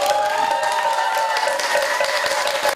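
A crowd applauds at a Buddhist eye-dotting consecration ceremony at Daejangeomsa temple in Changwon, a dense, steady burst of clapping that carries on for a few seconds.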